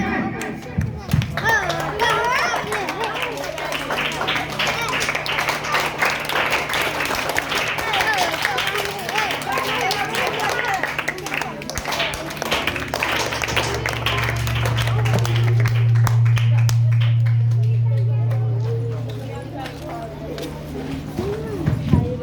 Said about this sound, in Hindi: ताली बजाइएगा, ठीक है।